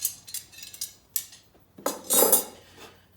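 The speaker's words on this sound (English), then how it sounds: "I got a spoon and a fork." Metal spoon and fork clink against each other and other camp gear in a few sharp, close bursts, with a longer jangle near the end and quiet gaps between, no voices.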